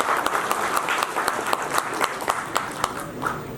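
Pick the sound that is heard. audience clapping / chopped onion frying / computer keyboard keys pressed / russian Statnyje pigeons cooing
audience clapping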